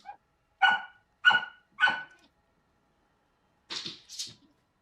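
Puppies barking in a few short, sharp yips, three in quick succession and then two higher ones after a pause, fairly close against a silent background.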